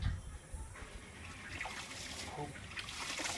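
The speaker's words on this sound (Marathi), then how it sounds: "टाका ड्रॅगन फ्रूटला पाणी" Water trickles and splashes as a potted dragon fruit plant on a rooftop terrace is watered, a soft, steady pour heard close by that strengthens slightly toward the end, with some quiet speech mixed in.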